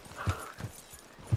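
Horse hooves in Red Dead Redemption 2 make a few soft, uneven clip-clop thuds at close range, moderately quiet and heard alone.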